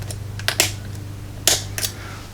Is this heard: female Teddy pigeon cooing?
no